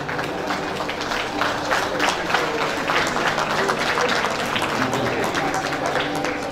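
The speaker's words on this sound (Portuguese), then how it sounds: "Peço uma salva de palmas, por favor." An audience claps steadily at an Angus cattle competition prize ceremony at an agricultural fair on Faial Island, a sustained round of applause with some crowd murmur underneath.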